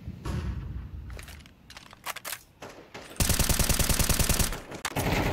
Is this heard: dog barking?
no